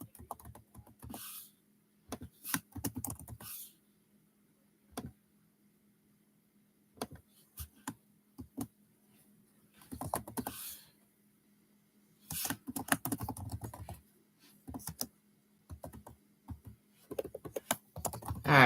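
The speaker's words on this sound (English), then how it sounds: "just typing the poll question right now, setting it up" Typing on a computer keyboard in short, irregular bursts of clicking keystrokes separated by pauses, close and fairly quiet.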